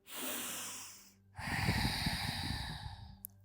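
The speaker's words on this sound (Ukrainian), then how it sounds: "Заключний глибокий вдих." During a relaxing yoga session, someone takes a deep, audible breath in and lets it out slowly, each breath a close, airy rush with a short pause between them.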